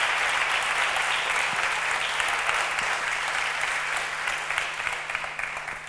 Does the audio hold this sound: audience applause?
yes